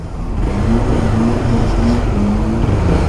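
A nearby car revs hard and accelerates, its loud engine tone climbing and wavering for about three seconds under road noise, with no voices over it; an old boxy Volkswagen Gol is also on the road.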